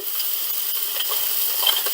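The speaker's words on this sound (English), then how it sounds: "Good sizzle when I get that down." Flank steak sizzles steadily in a hot pan, a continuous close hiss of frying with small crackles and no talk over it.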